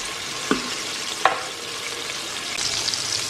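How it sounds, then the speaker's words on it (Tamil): Onions and tomatoes fry in oil in an Instant Pot for sambar rice, a close, steady sizzle broken by two sharp utensil clacks, with no talking. "இதை வந்து ஒரு 2 மினிட்ஸ் ஃப்ரை பண்ணிடலாம்"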